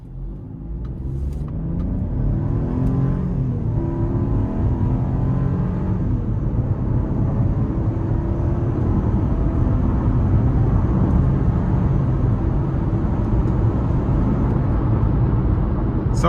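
A 2026 Chevy Trax 1RS with a 1.2-liter turbo engine accelerates under light throttle, its steady, loud engine drone and road rumble building smoothly and holding for about sixteen seconds with no talking.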